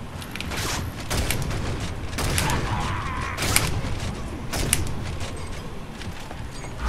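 Gunfire from a Gears of War: Judgment match, with Breech rifle and sniper shots cracking out as several loud, sharp bursts over steady game noise.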